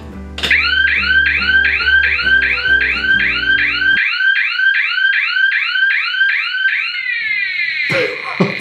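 An armed 3D-printed Minesque training mine from 419LAB sets off a loud electronic alarm: a rapid chain of repeating chirping whoops that shifts into a steady warbling tone, with a burst of noise at the end.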